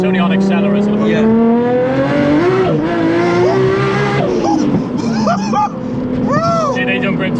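A fully built Nissan Skyline R33 GTS with a one-off custom exhaust accelerates hard nearby, its engine note rising and falling through the revs, with tyre squeal and excited voices over it.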